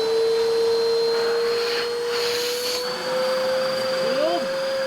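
A Bissell CleanView Swivel Pet bagless upright vacuum cleaner runs with a steady loud motor drone and high whine, close by and unbroken, with a faint voice briefly audible underneath.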